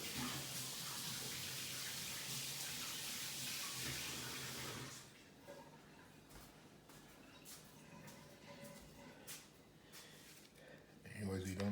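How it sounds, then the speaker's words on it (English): Running tap water while washing hands in a home kitchen, with a steady rushing stream for several seconds that stops, followed by quieter handling sounds. "go wash my hands and we'll continue cooking"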